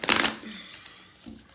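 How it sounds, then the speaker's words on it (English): Tarot cards being shuffled by hand, a burst of riffling and flapping up close at the start that fades to a soft rustle, with a brief shuffle again near the end. "I'll shuffle one more time."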